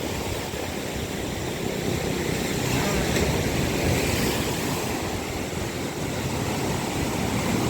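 Strong ocean surf at Mauban, Quezon pounds the shore in a broad, continuous roar of breaking waves, loud and close, with a slight swell in intensity midway.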